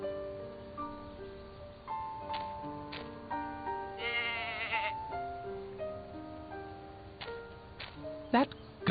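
A goat in the video game And Then There Were None bleats repeatedly, wavering calls layered over game background music, with a sharp noisy burst near the end.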